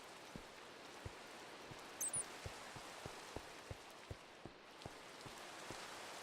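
Rain falls in the video game Minecraft, a faint continuous patter with a steady series of soft drops tapping at a fairly even pace.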